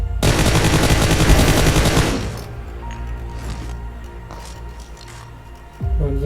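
Rapid automatic gunfire in PUBG Mobile rattles loud and close for about two seconds, then gives way to scattered distant shots and a final rumbling burst.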